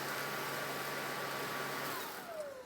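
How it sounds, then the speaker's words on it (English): A cordless stick vacuum cleaner keeps running after its power button is pressed, a steady loud whooshing motor roar that holds evenly and then begins to wind down with a falling whine near the end. "the vacuum kicks in to clean anything out of the pipes there"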